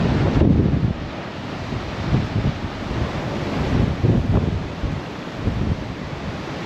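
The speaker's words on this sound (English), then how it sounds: "It might be a wee bit windy" Strong wind buffeting the microphone on the open deck of the Cunard Queen Mary 2 during a winter transatlantic crossing, with a broad wash of ocean waves below, loud gusts rising and falling throughout and no voices.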